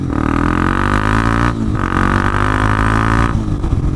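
Honda CB300R single-cylinder engine revving hard near its shift light, two long sustained high-rpm wails with a brief dip between them, loud and close with no talk.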